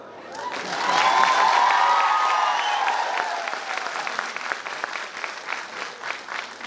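Audience applause at a live speech event, swelling from quiet to a loud, dense burst of clapping, then thinning into scattered, distinct claps as it fades.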